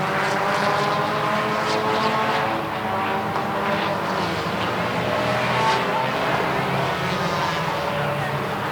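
Race car driving on a racetrack during the Daytomah 200, a loud, continuous engine roar with steady tonal whine, heard up close and filling the whole stretch.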